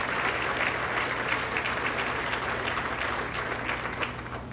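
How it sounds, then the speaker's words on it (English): Dense, sustained applause from a crowd at the groundbreaking ceremony for a VinFast electric vehicle factory in North Carolina, steady and full before tapering slightly at the end. "Let's get one last round of applause"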